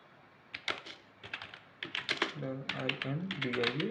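Keys are typed on a computer keyboard in bursts, with a single press of the enter key, close and moderately loud. Someone speaks over the second half.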